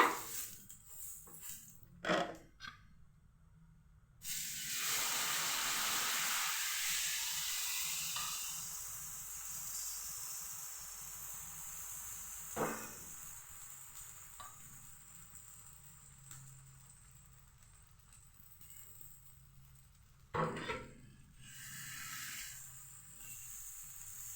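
Dosa batter hits a hot griddle and hisses, a long steady sizzle that swells after a few seconds and then fades, broken by occasional clinks.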